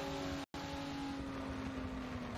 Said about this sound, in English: Always great with these cars when they just, you know, spool up and suck in that air.